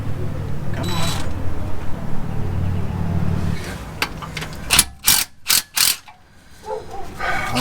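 Metallic ratcheting and clicking from a wrench undoing a bolt on the oil pump pickup tube of a 4.8 LS engine, a few sharp close bursts after a stretch of low rumbling workshop noise.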